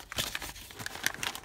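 Newspaper wrapping on a package crinkles and crackles as it is pulled open from a shipping box, a quick burst of close, irregular rustling and tearing.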